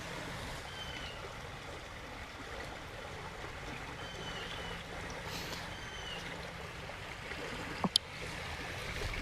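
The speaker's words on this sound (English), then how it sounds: "Here, I'll give you a taste of some running water." A small stream runs over its bed as someone walks along it, a steady, even wash of flowing water that stays close and unbroken throughout, with a brief sharp knock near the end.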